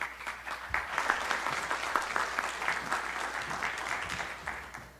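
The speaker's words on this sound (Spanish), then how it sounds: "Aplauso, por favor." Applause in an auditorium, a moderate crowd clapping steadily after an introduction, a bit distant and evenly sustained for several seconds.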